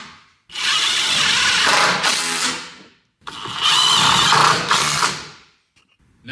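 A power drill drives #12 1.5-inch hex head tek screws into a sunroom sill, two loud sustained whirring runs of about two seconds each, with the motor pitch shifting as each screw seats, separated by brief silence.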